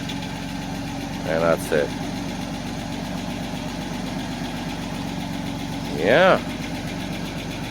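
A 1991 Mercedes 190E engine idles steadily up close with a faint rapid lifter tick in the drone, while someone speaks briefly twice over it.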